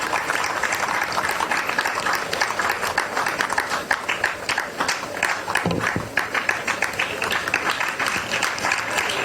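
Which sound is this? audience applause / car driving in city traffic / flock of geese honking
audience applause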